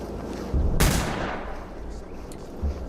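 A sniper rifle fires once in a video game shootout, a sharp loud crack followed by a fading echo, over low rumbling background ambience.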